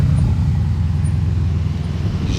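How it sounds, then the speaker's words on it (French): A Porsche 918 Spider rumbles nearby with a deep, steady engine drone, loud and continuous, with no voices over it. "Une Porsche 918 Spider sans pack Weissach"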